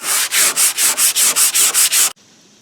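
Rapid back-and-forth sanding strokes with 320-grit paper scrape across a painted panel of a 1973 Pontiac Grand Prix, about ten even rhythmic passes, loud and close, then stopping abruptly.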